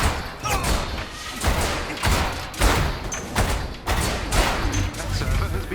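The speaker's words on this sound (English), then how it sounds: "That server has been destroyed." AIM server being destroyed in Marvel's Avengers, a burst of heavy thuds, slams and gunfire-like blasts repeating in close, loud waves throughout the fight.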